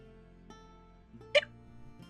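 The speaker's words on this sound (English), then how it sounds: "I'm okay, I got a hiccup." A single sharp hiccup from a man, sudden and brief in the middle of an otherwise quiet moment with faint background music.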